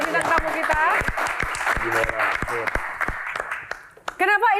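A studio audience at a TV talk show applauds in a steady crackling wash, with a host's voice speaking over it and continuing as the clapping fades.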